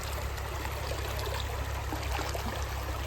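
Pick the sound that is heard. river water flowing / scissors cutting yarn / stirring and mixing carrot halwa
river water flowing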